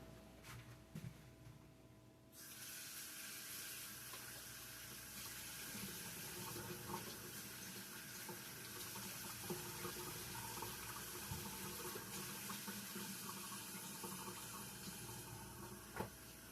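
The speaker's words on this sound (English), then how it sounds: "Let me wash my hands and I'll be back." Tap water pours steadily into a kitchen sink during hand washing, a continuous hissing splash that starts after a few seconds of handling noises and runs quietly for the rest of the stretch.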